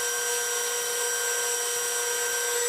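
Steel pin for a mini excavator being turned down on a lathe, its outside diameter blended to size; a steady high metallic cutting whine with tonal ringing runs continuously and evenly throughout.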